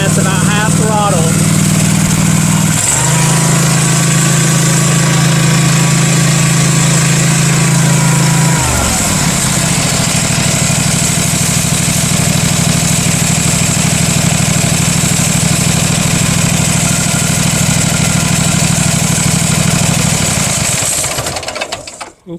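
The engine of a Husqvarna MZ5225 ride-on mower runs loud and close with a steady drone, drops in pitch partway through as the throttle changes, then settles at a lower steady hum at half throttle while someone speaks.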